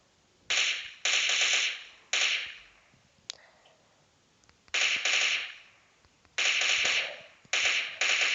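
Automatic gunfire from a video game, with a magazine emptied on a single target in six or seven loud, rapid bursts separated by short pauses, plus a few faint clicks between them.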